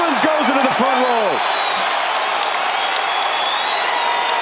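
A basketball arena crowd sends up a loud, steady wash of applause and cheering, with a commentator's voice briefly over the start before the roar carries on alone.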